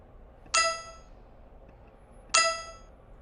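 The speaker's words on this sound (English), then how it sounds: "Start sound collect." Two bright chiming clangs from the Scratch "collect" sound effect in a diving game ring out about two seconds apart, each sharp at the start and fading over roughly half a second above a faint background hiss.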